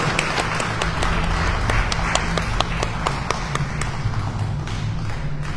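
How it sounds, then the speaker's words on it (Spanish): Audience at a poetry conference applauding, a dense steady patter of many hands clapping, moderately close, with faint voices underneath. "Vamos a darle un aplauso"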